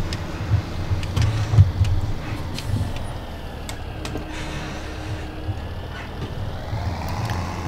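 Farm vehicle engine from the Farming Simulator 17 video game, a steady low mechanical drone with a few faint beeps and clicks as it drives along, heard on its own without talking.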